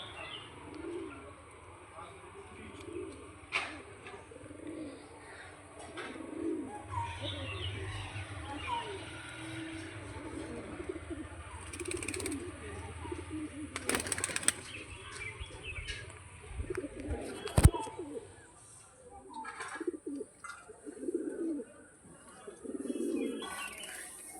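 Pigeons coo repeatedly in soft, low rolling calls throughout, mixed with scattered chirps and occasional sharp knocks, and a voice speaks at times over a steady background hum.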